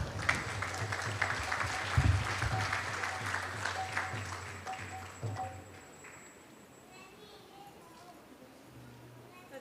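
A congregation at a Sunday temple feast applauds after a spiritual talk, the clapping moderately loud with a few sharp knocks, then thinning and fading away in the last few seconds.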